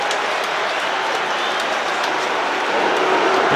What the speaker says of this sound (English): the crowd boo because Folau is having a little push at Visser